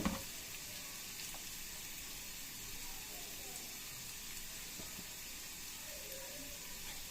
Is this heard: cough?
no